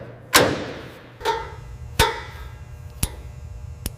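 The door of a 1971 Datsun 240Z is shut several times, each a solid close thud followed by quieter latch clicks, spaced about a second apart with no talking.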